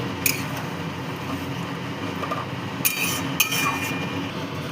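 A spoon stirs lentil fritters with ridge gourd in a simmering curry. Three or four light metallic clinks against the pot sound over a steady background hum.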